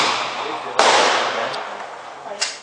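A CZ-made SKS rifle fires outdoors, a single sharp crack followed by a long decaying echo, with a fainter second report near the end.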